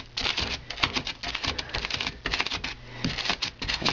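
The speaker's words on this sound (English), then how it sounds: "So what I'm going to do now is start cutting through this layer" Blade cutting through a layer of extruded foam for model railroad scenery, a close, rapid series of crisp scratchy strokes with brief pauses between bursts.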